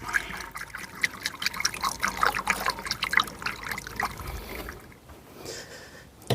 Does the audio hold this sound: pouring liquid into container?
yes